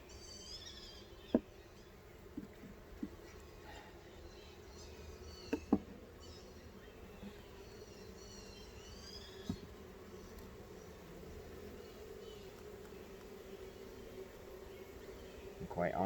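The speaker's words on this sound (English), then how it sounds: "that looks like a lot of bees" A low, steady buzzing hum of many honeybees in a hive fills the background, faint and continuous, with occasional soft clicks and knocks.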